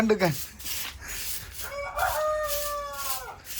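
A chicken clucks and then gives a drawn-out crow-like call, close and fairly loud, with a few other short squawks around it.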